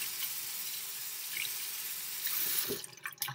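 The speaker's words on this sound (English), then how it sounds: "So I'm going to wash my hands." Water runs steadily from a kitchen tap into a sink during handwashing, a soft continuous hiss that ends with a few splashes and drips as the flow is shut off.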